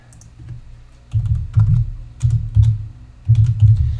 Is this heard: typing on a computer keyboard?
yes